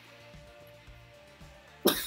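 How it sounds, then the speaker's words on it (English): A single sharp, loud cough bursts out near the end after a quiet stretch with soft low background tones. "Sorry for the coughing, by the way."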